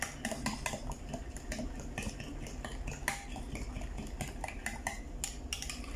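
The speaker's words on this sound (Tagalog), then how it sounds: "Halo-haloin natin yung ating sauce." A utensil stirs a cucumber and yogurt salad sauce in a bowl, giving rapid, continuous clinking and scraping against the dish, close and fairly busy.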